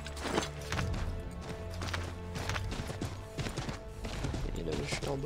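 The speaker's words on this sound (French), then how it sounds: "On va voler un cheval." Horse hooves clip-clopping in Assassin's Creed III, a steady galloping patter under continuous game music and effects, fairly loud throughout.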